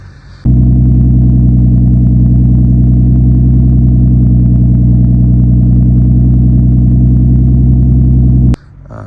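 A Nissan Skyline R33 GTS-T engine with a 3.5-inch straight-through exhaust and no middle muffler idles loudly and steadily with a deep, throbbing drone, starting suddenly and cutting off near the end.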